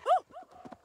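A dog in the video game Assassin's Creed Valhalla gives a few short, close barks and yips in quick succession, clear over a quiet background with no talking.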